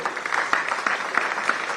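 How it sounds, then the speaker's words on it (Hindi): Audience applause at a literature festival in Pune, a steady wash of many hands clapping with brief louder bursts, moderately close and continuous without talk. "युवराज जी के लिए ताली जरूर मैं भी बजाऊंगा, आप लोग"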